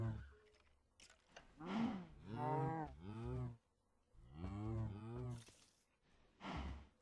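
Cows mooing in the Minecraft modpack Agrarian Skies, several long, groaning moos one after another with short gaps, overlapping at times and fairly quiet overall, with no talk.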